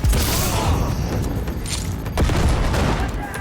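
Dense, continuous rumbling explosions and crackling gunfire-like bursts in the video game Cyberpunk 2077, loud and close, with a heavier boom near the two-second mark.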